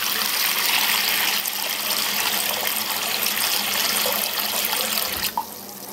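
Tap water runs steadily into a bathtub sealed with a chrome rubber plug, a continuous close, loud gushing wash that ends with a short knock near the finish.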